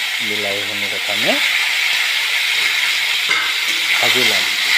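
Tomatoes fry in hot oil in a pan with bay leaves in a home kitchen, a steady close hiss and sizzle with stirring scrapes, while someone talks over it.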